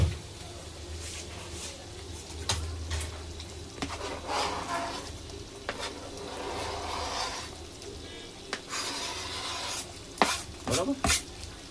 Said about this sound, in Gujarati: પનીર 2 પેકેટ એડ કરી દઈએ.